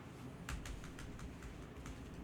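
A computer keyboard in a stock-market broadcast studio gives a handful of soft, irregular key clicks over a low, constant background hiss. The clicks are faint and there is no talk.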